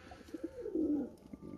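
Pigeons kept as tame birds give a soft, low, rolling coo, faint and brief against quiet background noise.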